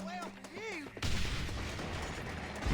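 A sawed-off shotgun in a Red Dead video game fires in a rapid, dense burst of blasts. A voice is heard briefly just before the shots, which then roll on loudly to the end.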